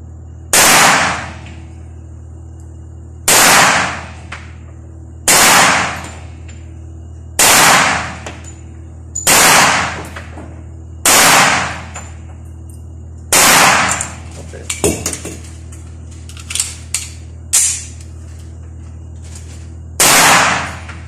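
A Norinco Enhanced .45 pistol fired at a firing range, eight loud, sharp reports at roughly even two-to-three-second intervals, with faint clinks and brief background sounds between shots.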